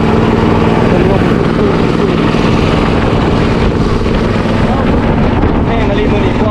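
Strong, dry wind blows steadily on a forest trip, a loud continuous roaring rush with gusty buffeting against the microphone.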